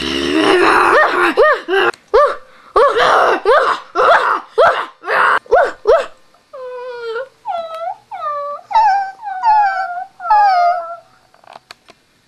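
Dogs in a cartoon give off a run of short, strained yelps and whines, followed by long, wavering howls that rise and fall, loud and close, with pauses between calls.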